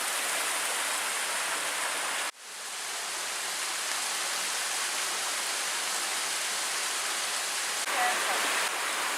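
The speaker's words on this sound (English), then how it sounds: "We're right next to this small stream." A small stream flows through a mossy, rain-soaked valley, giving a steady, broad rushing wash close by that fills the whole stretch, with one brief dropout partway through.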